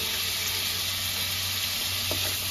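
Shrimp frying in oil for egg-wrapped mixed fried rice, a dense continuous sizzle close by with a steady low hum underneath and a brief stir near the end.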